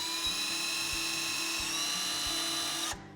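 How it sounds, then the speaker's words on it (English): A small drill bit bores a pilot hole in a painted wooden sign for a chicken coop, a steady close high whine that cuts off sharply near the end. "I'm just going to use a drill with a real small drill bit"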